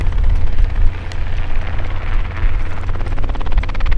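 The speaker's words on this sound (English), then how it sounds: "there's currently a helicopter flying. He's actually getting close now." A sheriff's helicopter flies overhead at a fishing spot near a sinkhole, its steady rotor roar loud and continuous without any letup.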